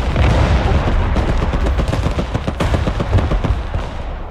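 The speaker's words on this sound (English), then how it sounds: "hit this building with artillery" In the game Broken Arrow, artillery and gunfire strike a building as a loud, rapid barrage of booms and cracking bursts that runs steadily throughout with no talking.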